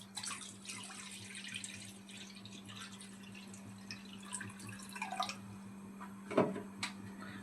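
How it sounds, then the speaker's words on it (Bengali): Water poured into a wok on a gas stove, a steady splashing trickle at low volume that ends in a few drips, over a constant low hum. "কড়ার মধ্যে পরিমাণ মতো জল দিয়ে দেব।"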